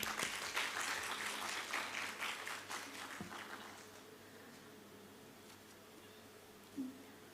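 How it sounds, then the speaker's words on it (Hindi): School audience gives a round of applause for students after a Hindi poetry elocution, dense clapping strongest at first and thinning out over several seconds to quiet room noise. "उनके लिए एक जोरदार ताली हो जाए।"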